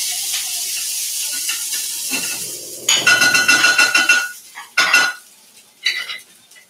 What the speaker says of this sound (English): Just rice at the bottom of the pan, sizzling up.